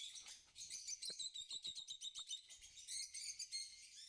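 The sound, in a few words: opaline lovebirds (Agapornis) chirping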